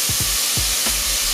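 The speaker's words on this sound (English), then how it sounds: "I start off by frying the oil marinade because it cooks off the herbs" Oil marinade with parsley and other herbs frying in a pan for a vegan jackfruit dish, giving a steady low sizzle with a few soft pops, close and continuous with no talking.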